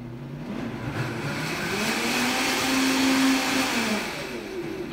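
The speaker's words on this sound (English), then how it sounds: "And then we'll blend it up a little bit more." A kitchen blender whirs steadily as it blends a chocolate drink, a loud continuous motor roar with a churning texture that rises slightly in pitch midway and holds without pause.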